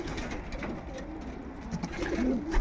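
Pigeons cooing softly in a pigeon loft, low rolling coos repeating close by against a quiet background.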